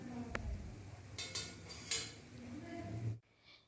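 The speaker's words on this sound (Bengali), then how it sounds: "এবার গ্যাসের ফ্লেমটা অফ করে দিচ্ছি, আর এগুলোকে একটি পাত্রের মধ্যে তুলে নিচ্ছি।" Fried pieces of leftover flatbread being scooped out of a pan into a bowl, with a few metallic clinks and scrapes of a utensil against cookware over a faint kitchen hum, ending abruptly.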